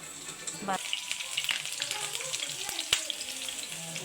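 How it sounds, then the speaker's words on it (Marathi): Onions sizzle in a hot pan, a steady crackling hiss with occasional sharper pops and a brief chirp of something in the background, close and moderate in level. "कांदा थोडा लालसर होऊन द्यायचा चांगला भाजून द्यायचा"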